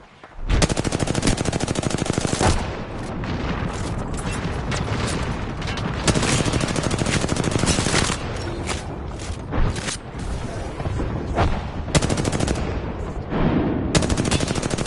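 Video game gunfire rattles in dense automatic bursts with heavy booming impacts from grenade explosions, loud and nearly continuous throughout, with brief gaps between volleys.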